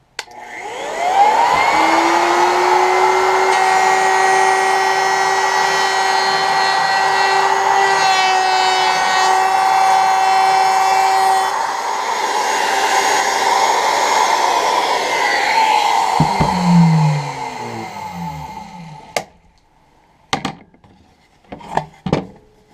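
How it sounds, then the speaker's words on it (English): A router fitted with a round-over bit cuts a test edge on a section of wood trim for a van's high-top interface, a loud sustained whine lasting about fifteen seconds before winding down, followed by a few brief knocks. "I got a round over bit on my router. I'm going to do a test on this section here."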